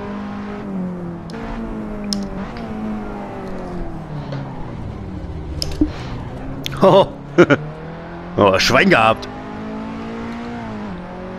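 KTM race car lapping the Sachsenring circuit in a racing video game, engine droning and shifting pitch under ongoing talk, with a few sharp bursts of revving and scraping near the end and a brief spoken exclamation.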